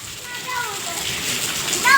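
Heavy rain with thunder pours down in Bhesan, a close, steady wash of falling water and splashing while a voice talks over it.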